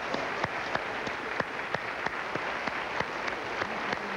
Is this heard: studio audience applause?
yes